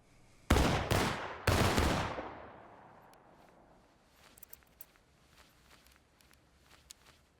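Musket volley fire in the War of Rights game, with three loud, ragged bursts of massed shots in quick succession, each ringing out into a long rolling echo, followed by scattered faint clicks and clatter.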